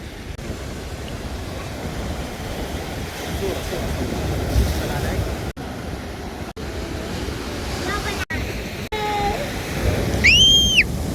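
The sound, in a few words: high ocean waves at the seashore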